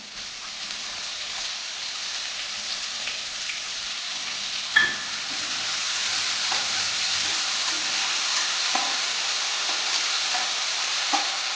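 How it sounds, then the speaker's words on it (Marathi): Chopped onion sautés in a pan until transparent for a dhaba-style cashew curry, an even, continuous sizzle close by with occasional soft stirring scrapes and one brief clink, no voices. "हळूहळू तीन ते चार मिनटं परतवून म्हणजे ट्रान्सपरंट होईपर्यंत"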